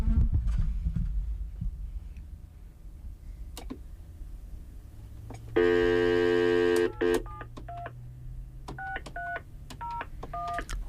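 A telephone on speakerphone dialing out, a sustained tone followed by a rapid series of short keypad beeps over a low room hum, fairly loud and close.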